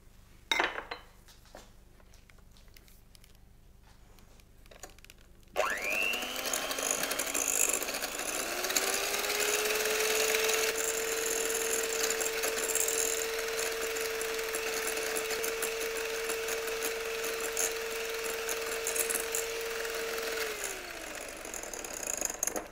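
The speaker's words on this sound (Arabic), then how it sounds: "غادي نخلطوا مليح هذه المكونات حتى نتحصلوا على خليط كريمي والسكر يكون ذاب" Sugar and eggs are beaten together in a bowl, likely with a hand mixer, for an apricot-jam roll cake, after a few seconds of quiet handling. A steady whirring motor runs loudly and evenly for most of the stretch, with no talk.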